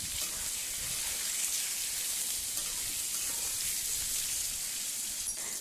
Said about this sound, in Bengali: এবার হালকা করে বেগুনের টুকরোগুলোকে ভেজে নেব।